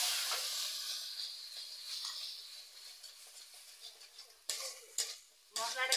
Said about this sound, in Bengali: মশলাটা কষানোর জন্য অল্প করে জল দিচ্ছি